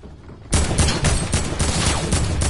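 Rapid gunfire in the Fortnite video game, aimed at a hamster ball vehicle: a sudden burst of loud, repeated shots fired in quick succession, continuing steadily after a quiet start.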